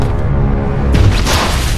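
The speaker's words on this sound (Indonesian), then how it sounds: "Dari ledakan tadi" Grenade explosion in an action film, a deep low rumble that swells midway into a heavier booming burst with scattered debris-like crackle, loud and close, no speech.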